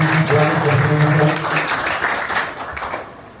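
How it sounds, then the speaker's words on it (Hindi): An audience at a district-level youth parliament competition in Sirsa claps loudly to welcome the judges, a dense burst of applause over a brief musical hum that tapers off gradually toward the end. "जोरदार तालियों के साथ हमारे वेलकम करते हैं।"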